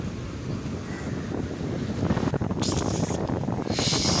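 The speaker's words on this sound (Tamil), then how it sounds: "இந்த இடத்துல தண்ணி வந்து ஃபுல்லாகவே அலைலாம் ஃபுல்லாக மண்ணோடு சேர்ந்து தாங்க வருது" Sea waves wash sandy water up onto a beach close by. The steady surging rush swells louder toward the end, with strong wind buffeting the microphone.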